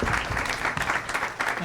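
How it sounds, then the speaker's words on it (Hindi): Audience applause at a comedy talent show, steady dense clapping filling the whole short stretch with no pauses. "तालियां हो जाए"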